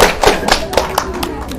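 A few people clap their hands in a mosque gathering, a short irregular burst of sharp claps mixed with talk and room noise.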